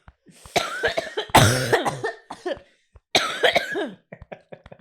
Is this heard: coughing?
yes